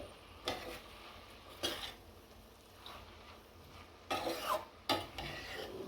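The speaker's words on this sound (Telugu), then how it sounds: "మెంతాకు కొంచెం మామూలుగా కలిపెట్టుకోవాలి" Fenugreek leaves and broad beans are stirred in a pan with soft gentle mixing. Several distinct scraping strokes of a utensil against the pan come in irregular bursts over a low, quiet sizzle.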